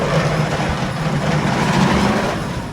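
The El Toro wooden roller coaster train at Six Flags rumbles over a hill before it has warmed up, making a loud continuous clattering roar with a rough, uneven rattle.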